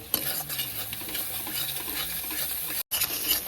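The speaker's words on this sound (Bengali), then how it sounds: "মশলা কষানো হয়ে গেছে তেলটা ছেড়েছে" Prawn curry spice masala of turmeric, cumin and chili powder frying in oil, with a steady sizzle and a spoon stirring and scraping the pan close up, a brief dropout near the end.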